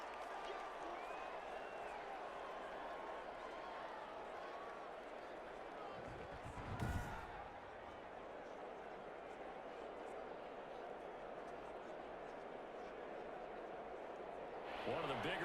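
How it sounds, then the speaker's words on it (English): Stadium crowd noise from the Madden 21 football video game, a steady broad roar of fans building ahead of a big third down, with a brief louder swell midway and speech-like murmur mixed in throughout. "the crowd getting into it as we come up on a big 3rd down"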